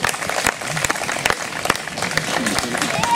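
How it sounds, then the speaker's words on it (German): Crowd cheering and clapping at a knights' tournament during the Sparrenburg festival in Bielefeld, a dense, continuous roar of applause with sharp claps throughout, moderately loud and fairly close. "Jubel ihm zu!"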